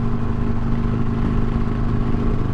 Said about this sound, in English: This exhaust sounds so amazing on this bridge.